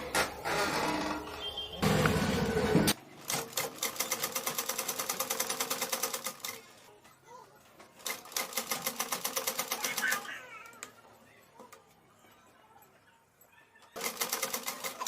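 A sewing machine stitches a blouse lining in repeated bursts of rapid mechanical rattling, separated by pauses with faint room sounds and a cat meowing.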